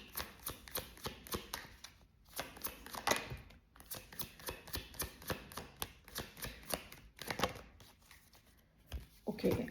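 Romance angel oracle cards being shuffled by hand: quick papery riffles and soft slaps in short bursts with brief pauses between, close and quiet.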